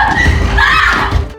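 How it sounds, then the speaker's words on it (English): A woman's sudden scream rings out as a short, shrill, sustained cry lasting about a second, loud and close, with a slight echoing quality. "a sudden scream echoed from upstairs"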